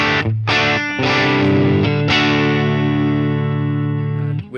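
Electric guitar through a Helix Voltage Queen amp model, based on a Gibson GA40, at stock settings with a US Deluxe speaker: a few picked notes, then a ringing chord that sustains with mild grit and slowly fades.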